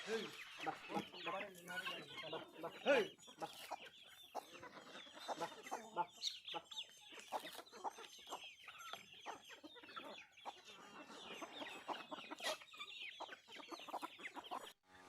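Chickens clucking and squawking continuously at close range, busy overlapping calls with faint background activity.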